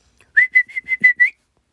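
A person whistles a special call of six short, rising tonal notes in quick succession, clear and close, with no talking around it.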